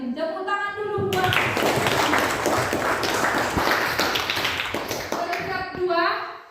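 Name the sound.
class applauding a top-ranked student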